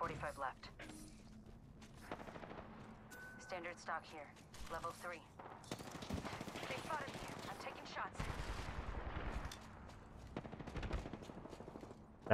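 Rapid video game gunfire rattles in repeated bursts of automatic shots, with sharp single cracks between them, loud and close throughout while players talk over the shooting.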